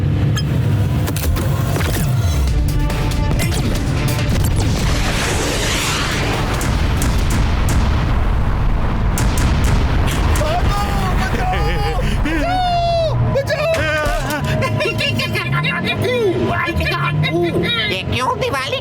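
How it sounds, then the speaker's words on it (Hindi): Diwali fireworks explode over a cartoon city with continuous booming blasts and crackling bursts, joined by whistling, rising and falling tones and a loud, dense mix throughout, with voices buried under the noise. "ये क्यों दिवाली की आतिशबाजी कर रहे हैं?"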